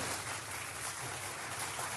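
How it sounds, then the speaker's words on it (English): Studio applause played on a talk radio show, a steady, dense wash of clapping that stays fairly quiet and even throughout with no voices over it. "Can we get that applause going?"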